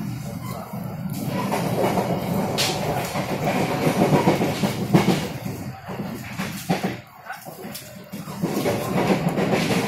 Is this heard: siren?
no